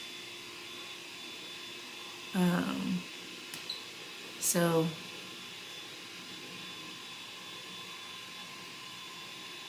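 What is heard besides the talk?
hair dryer running in another room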